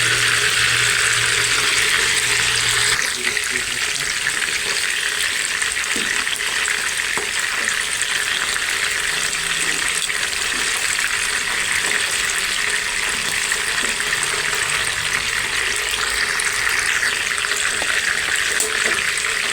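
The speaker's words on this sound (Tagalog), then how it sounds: "Pinirito ko lang naman ng konti yung ibabaw." Adobo frying in hot cooking oil in a pan, a steady, loud, close sizzle with a wet hiss that runs without a break, and no one talking.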